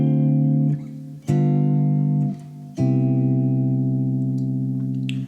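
Guitar plays a jazz 2-5-1 chord progression: three sustained chords struck one after another, each ringing out clearly and fairly loud with no talking.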